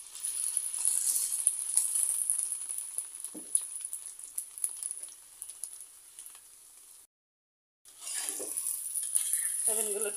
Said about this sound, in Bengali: সয়াবিনগুলোকে ভালোভাবে ভেজে নিতে হবে